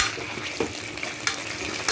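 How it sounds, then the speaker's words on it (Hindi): Ginger and garlic paste frying with onions in a pan for palak paneer gives a steady close sizzle, with a few sharp clinks as a utensil stirs against the pan. "अब अदरक और लहसुन का पेस्ट इसको भी अच्छे से भूनना है"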